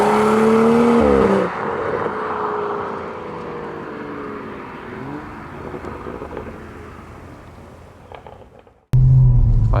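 A Stage 1 tuned 385 bhp BMW M135i pulls hard under acceleration, its engine note rising and sweeping through the revs, easing off, then climbing again before a sudden loud burst near the end, heard from inside the car.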